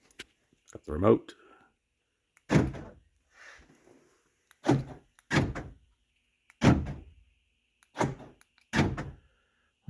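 Power door lock actuator on a Ford F-250/F-350 Super Duty cycling, a series of sharp mechanical thunks spaced a second or two apart, close and loud, with a voice heard between some of them.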